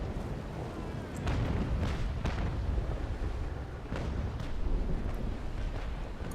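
Cannon broadside from a sailing frigate in Naval Action Legends: a steady rolling rumble with several heavy booms at irregular intervals, continuous and loud, no voices.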